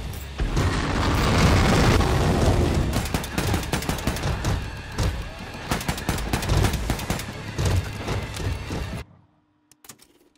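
Sustained, loud gunfire from Wolfenstein II: The New Colossus rattles in rapid automatic bursts mixed with heavy booms, continuing for several seconds before cutting off abruptly into near silence.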